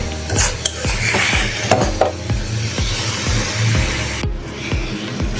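Mutton mince being stir-fried in a pan for a pea ghugni, with regular scraping and knocking strokes of a spatula against the pan over a low sizzle, close and rhythmic.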